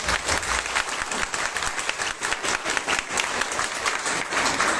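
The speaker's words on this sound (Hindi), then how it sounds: "इतनी तेज तालियां बजाएं कि गड़गड़ाहट पर नाम चढ़ जाए" Loud, dense applause from an audience at a Hindi devotional discourse gathering, steady and thunderous throughout with no pause, accompanied by faint crowd noise.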